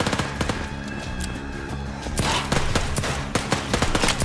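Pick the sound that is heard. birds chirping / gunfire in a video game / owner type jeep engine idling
gunfire in a video game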